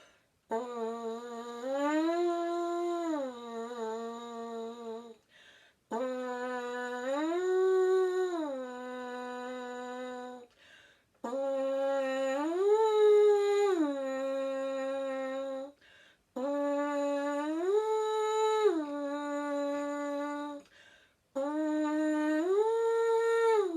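French horn playing a repeated ascending-then-descending note pattern from a middle pitch, five sustained phrases separated by short breaths, clear, close and alone.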